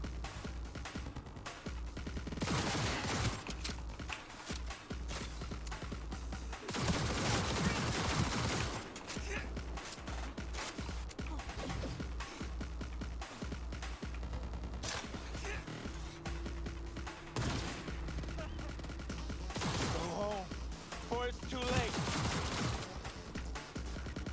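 Bursts of rapid gunfire in the video game Cyberpunk 2077, several loud clustered volleys over about twenty seconds with short gaps between them, alongside game sound effects and no talk.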